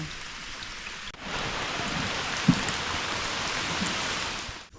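Monsoon rain on an Andaman island, a steady dense hiss of falling rain that swells after a quieter opening second and cuts off near the end, with no voices.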